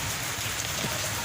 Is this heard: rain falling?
yes